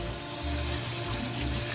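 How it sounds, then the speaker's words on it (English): Cold tap water runs steadily over taro roots in a strainer, a constant dense rushing spray with no pauses and no talking. "I'm using the strainer and I'm using the cold water to wash this"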